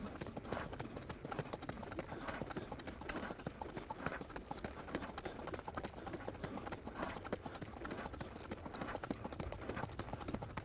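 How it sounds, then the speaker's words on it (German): A horse's hooves beat in a steady, even rhythm throughout as it is ridden, a continuous close clip-clop with a faint voice at times in the background. "Absolut geregelt gehendes Pferd, sehr, sehr taktklar."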